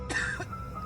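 A boy gives a single short, raspy cough in a smoke-filled room, heard close and clear, fading quickly with no talking over it.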